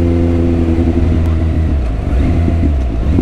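Motorcycle engine running without its dB killer exhaust insert, a loud, close, throaty drone that builds as it accelerates and holds steady for the whole stretch.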